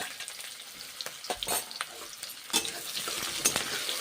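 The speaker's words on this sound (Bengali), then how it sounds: "তারপর পেঁয়াজগুলো ভেজে নিচ্ছি" Onions crackle and sizzle in hot oil, broken by several sharp scrapes and clatters of a spoon stirring the pan; no one speaks.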